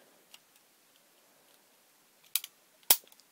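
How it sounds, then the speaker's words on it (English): A Crosman Stinger P311 airsoft pistol is opened by pulling the barrel away from the handle, giving two sharp plastic clicks close up near the end after faint earlier ticks. "you can easily open this gun up by pulling this out, pulling the barrel away from the"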